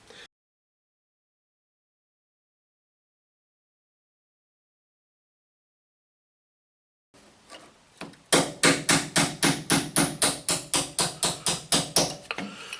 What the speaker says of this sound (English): Now hopefully that'll hold it and I can pound this bad one out.